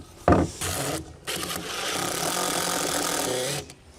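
A power driver sets screws into wood to secure the base of a deck landing, a short whir then a longer sustained grinding drive, close and fairly loud, ending in a brief stop.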